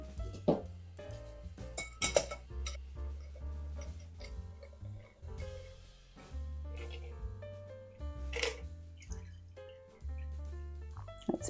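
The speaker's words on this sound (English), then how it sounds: "Now we will strain this into our absinthe rinsed glass." A Toasted Almond Sazerac is strained into an absinthe-rinsed glass, with quiet, scattered clinks and ticks of glass over a soft tonal background.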